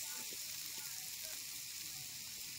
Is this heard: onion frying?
yes